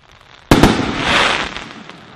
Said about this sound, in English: It's always a surprise here at Sysboom Fireworks.